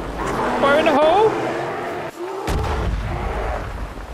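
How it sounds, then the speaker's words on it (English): Dynamite thrown down a hole in Red Dead Redemption 2 goes off after a brief hush as one heavy, booming blast with a rumbling tail, while someone talks excitedly beforehand. "I probably can just throw some dynamite down the hole, right?"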